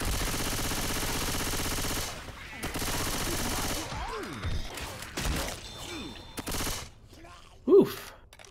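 Rapid automatic gunfire in the zombie shooter Left 4 Dead, sustained bursts for a couple of seconds, then scattered shots and game clatter with a player talking.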